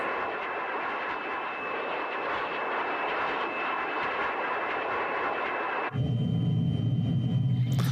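An aeroplane engine drones steadily in flight in what appears to be a video game, a constant loud hum with a brief shift to a deeper, rougher tone near the end.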